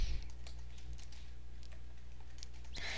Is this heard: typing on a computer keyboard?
yes